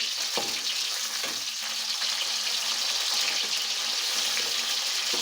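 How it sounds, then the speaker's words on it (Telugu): Dried prawns fry in hot oil in a pan with a steady, dense crackling sizzle, close and continuous, with a few faint clinks of stirring near the start. "నూనె అయితే కాగింది కదా ఇందులో రొయ్యలు వేపుకుందామండి ఒకసారి కలుపుకుందాం"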